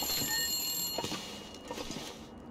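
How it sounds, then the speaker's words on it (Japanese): A telephone rings in the survival video game The Long Dark, a shrill electronic trill that sounds at the start and then breaks off, leaving a muffled in-game ambience. "電話が鳴ってる。"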